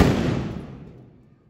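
A single loud Diwali firecracker blast that rings out and fades over about a second, with no talking.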